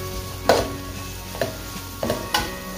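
Finely chopped onion stirred in a pan for a dhaba-style potato dish, with a few sharp scraping clatters of the spoon over a low steady sizzle, close up and without talk.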